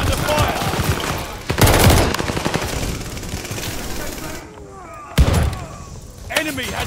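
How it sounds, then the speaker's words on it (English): Automatic gunfire rattles in bursts around a Hardpoint objective in the Call of Duty Vanguard video game, with a sharp, loud shot standing out midway and more fire at the end, while game voices speak between the bursts. "Hardpoint's under fire!"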